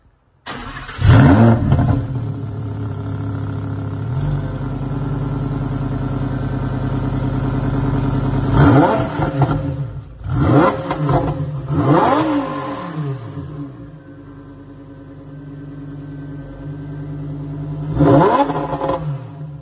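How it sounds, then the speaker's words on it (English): A Lamborghini Huracan Performante starts with a sharp burst, then settles into a loud, steady idle broken by several hard revs that rise and fall, the last one after a quieter stretch, with no talking. "start it up, pop it into Corsa because it's warm, and give it a couple of revs."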